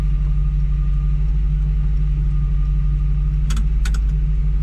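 A steady low rumble from a Ford Model A street rod engine idles throughout, with a couple of brief higher-pitched clatters near the end.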